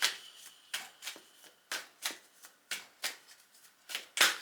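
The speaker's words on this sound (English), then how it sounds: "So giving them a good shuffle." Tarot cards shuffled by hand, a quick series of crisp riffling bursts about every half second, close and fairly quiet with no talking.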